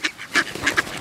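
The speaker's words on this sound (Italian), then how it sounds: "La papera maledetta, guarda." A duck quacks several times in quick succession, close and fairly loud, with nasal rasping calls.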